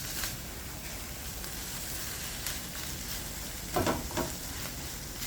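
Eggs sizzle steadily in a hot pan after crumbled feta cheese is added, a constant close frying hiss with a brief burst of stirring clatter near the end.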